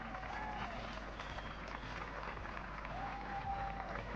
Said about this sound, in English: A huge round of applause to this Georgian team.